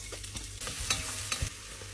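Jamaican curry goat sizzles in a pot while being stirred, with scraping strokes over a steady frying hiss, close and moderately loud with no voices.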